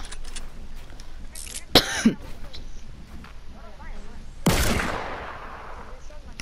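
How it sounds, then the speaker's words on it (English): Gunfire in the Fortnite video game: two sharp, loud shots crack out a few seconds apart, the second trailing off in a brief decay, with a person talking over the game sounds throughout. "I'm gonna shoot"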